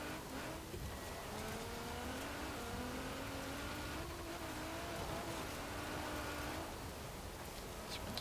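A 2017 Nissan GT-R drifts across loose off-road surfaces in Forza Horizon 4. Its engine makes a steady, droning whine whose pitch rises and falls as it revs, holding at a constant level throughout with no pauses.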